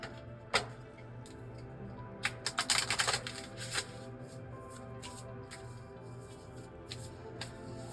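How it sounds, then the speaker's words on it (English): Tarot cards are shuffled in quick, crisp riffling bursts, close and fairly quiet, with a few isolated flicks before and after. "let's just shuffle these cards and kind of see what else we can learn."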